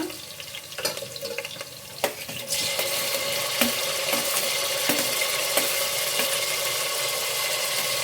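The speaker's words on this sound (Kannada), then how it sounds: "ಈಗ ಈರುಳ್ಳಿ ಫ್ರೈ ಆಗ್ತಾ ಇದೆ." Onions frying in oil in a pan, a steady hiss that thickens and grows louder partway through, with a few stirring clinks and scrapes near the start and no talk.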